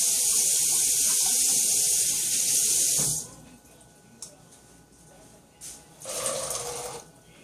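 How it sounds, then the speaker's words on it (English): Tap water pours loudly onto chickpeas in a kitchen sink for about three seconds, then stops, followed by quieter splashes and a short second gush of water. "Rinse it a little bit."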